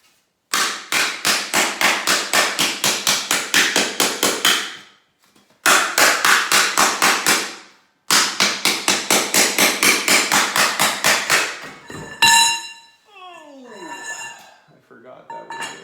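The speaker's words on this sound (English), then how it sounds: "and then I'm gonna put it through the hammer." Planishing hammer shaping sheet metal, fast regular pneumatic rapping in three loud bursts separated by short pauses, followed by ringing metallic clanks and a sliding squeal as the panel is handled.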